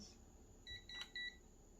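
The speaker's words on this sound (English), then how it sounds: "you just press this little trigger here till you hear it beep" A battery-powered forehead thermometer from Temu gives three short, high electronic beeps in quick succession, quiet against a faint background hiss.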